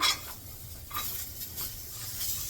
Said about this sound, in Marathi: आता हे सगळं मी पहिलं खोबरं वगैरे भाजून घेते